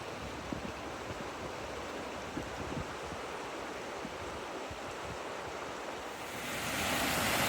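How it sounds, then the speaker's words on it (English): The Waptis River rushes in a steady broadband wash of flowing water on a Pacific Crest Trail hike, with light wind buffeting, swelling louder near the end. "This is the Waptis River."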